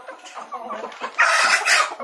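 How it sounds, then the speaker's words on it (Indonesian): Chickens cluck in a shared coop of mixed breeds, a close flurry of overlapping clucks and squawks that grows louder and busier in the second half. "ayam bondol dan ayam rintik. Nah, ini ayam bondol."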